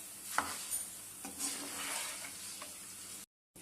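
Poha (flattened rice) frying in hot oil for a homemade South Indian mixture snack, a steady close sizzle with occasional stirring scrapes, ending abruptly in silence.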